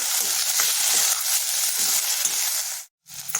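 Chopped tomatoes for palak paneer sizzle loudly and steadily in a hot pan, with stirring scrapes, a brief drop to silence near the end, then the frying resumes.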